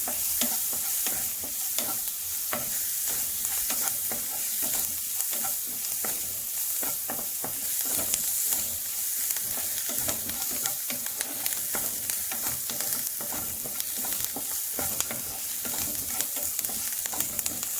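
Garlic roasting in oil in a pan over a raised flame, giving a steady sizzling hiss with frequent stirring scrapes and clicks throughout, close and continuous with no talking.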